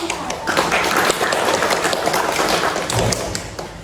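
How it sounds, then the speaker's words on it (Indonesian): An audience at a women's health education event on ovarian cysts claps in a short, dense burst, fairly close and loud, with scattered taps and thumps through it. "beri tepuk tangan kepada kita"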